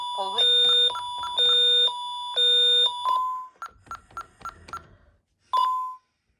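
A Honeywell Vista security system keypad sounds a police panic alarm: a series of loud, clear electronic tones that hold steadily, then break into short beeps and a final chirp.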